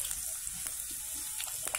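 Potatoes frying in oil in a pan for a paneer-aloo curry, giving a steady, close, dense sizzling hiss with small crackles throughout.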